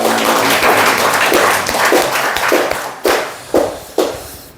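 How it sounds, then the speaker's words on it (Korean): Church congregation clapping in a sustained burst of applause that thins out into a few separate loud claps near the end. "우리 하나님께 영광의 박수를 드립니다."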